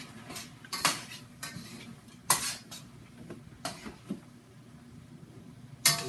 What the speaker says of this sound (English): just give it a nice, really nice little stir to it